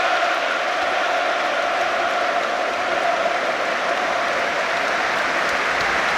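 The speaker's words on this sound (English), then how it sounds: "Diogo and the applause ringing around Molineux" A stadium crowd at Molineux applauds Diogo Jota during a Premier League match between Wolverhampton Wanderers and Manchester City, a loud, sustained wash of clapping that rings evenly around the ground without a break.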